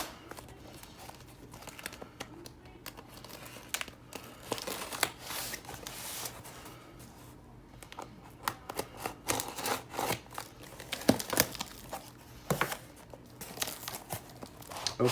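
A shipping box is cut open and its packaging unwrapped, with scattered crinkling, tearing and rustling bursts that come in irregular spurts at a quiet level.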